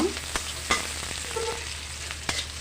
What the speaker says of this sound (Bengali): নেড়ে চেড়ে খুব সুন্দর করে একটু পেঁয়াজটাকে একটু লালচে করে নিব